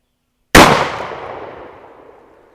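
A single loud shot from a Taurus Judge revolver fired outdoors at a box about seven yards away, a sharp sudden blast with a long ringing decay and no talk.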